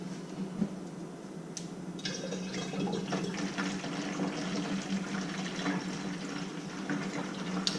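Homemade wine poured into bottles, a steady gurgling splash of liquid filling glass at close range, running continuously with no talking.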